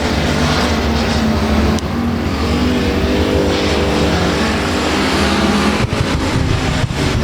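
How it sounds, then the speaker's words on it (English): Race cars lapping at Rose Bowl Speedway, a loud sustained roar of several engines running under green, steady and close with no break. "Top 3 cars running right there."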